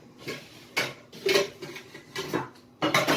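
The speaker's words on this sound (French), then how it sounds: "on sort une autre casserole" A metal saucepan is pulled out and handled nearby, producing several sharp clanks and rattles in quick irregular bursts, with a brief lighter clink between them.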